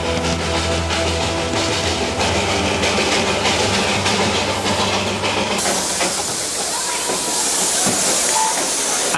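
The Darjeeling Himalayan Railway train runs loudly and close, a dense rumbling clatter of wheels and hissing steam that shifts partway through into a brighter, harsher roar.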